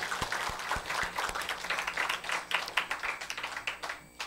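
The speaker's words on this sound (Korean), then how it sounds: "이분들에게 박수 한번 올려드릴까요?" Applause from a church congregation, many hands clapping together in a dense, steady patter that grows a little sharper toward the end, with no voices over it.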